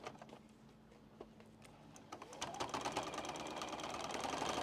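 A sewing machine stitches binding onto a quilt, faint at first as it eases over thick layers, then speeding into a steady, louder run.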